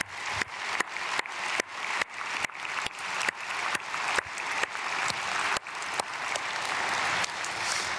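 A church congregation at an early-morning prayer service claps together in blessing, rhythmic applause with steady sharp beats that swells into continuous clapping, fairly faint and without talk.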